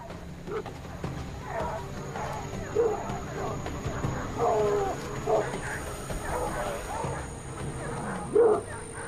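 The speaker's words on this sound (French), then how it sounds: "On fait intervenir les chiens une dernière fois." Hunting dogs bark in a forest during a jaguar search, several sharp yips and barks scattered over steady background noise, mostly at mid distance, with a voice speaking over them.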